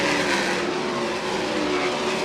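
Sprint cars race down the back straightaway on the final lap, their engines forming a loud, steady, close roaring drone with no break and no talk over it.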